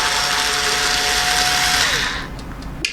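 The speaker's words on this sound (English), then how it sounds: "So you just go around and unscrew all of the screws." An electric screwdriver whirs steadily for about two seconds while backing out the case screws of an F-300B facial steamer, then winds down, leaving quiet handling and a couple of small clicks.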